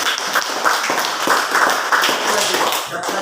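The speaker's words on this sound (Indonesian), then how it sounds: "Tepuk tangan untuk" An audience claps together at the close of a classroom presentation, producing dense, steady applause with many overlapping hand claps that continue at an even level through the moment.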